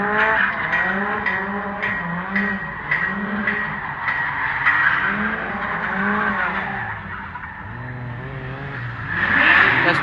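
A Nissan S15 drift car slides around a track with sustained screeching tire squeal, its engine revving in rising and falling waves, close and loud throughout with a swelling burst near the end.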